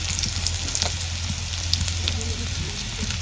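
Whole cumin seeds and chopped onion hit hot oil in a pan, giving a steady, close sizzle with a faint crackle throughout.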